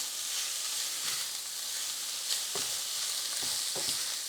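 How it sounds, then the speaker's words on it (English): Italian sausage browns in a hot pan with a steady, soft sizzle and a few scraping stirs, heard close and alone without any talking. "Getting some browning on our sausage"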